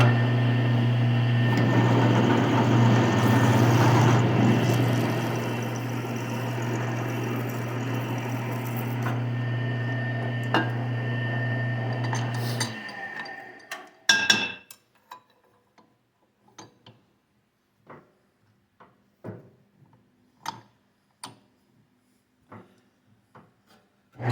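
A power drill fitted with a larger bit grinds steadily for about twelve seconds, drilling holes during Ford F-150 truck maintenance, then stops and is followed by a scatter of light taps and clicks in near silence.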